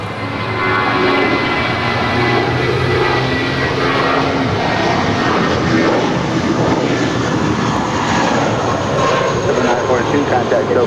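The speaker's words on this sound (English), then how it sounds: "Departing to Reno. It's flight 942, and that's an A320." An Airbus A320 departing LAX as flight 942 to Reno roars loudly and continuously with broadband engine rumble, close and steady throughout.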